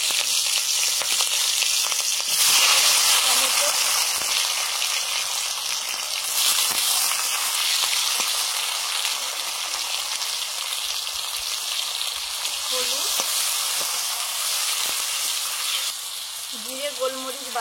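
Black cumin seeds and dried red chillies sizzle steadily in hot oil for a Bengali fish curry, a loud, continuous crackling hiss with a few brief surges and some faint kitchen clatter, no talking.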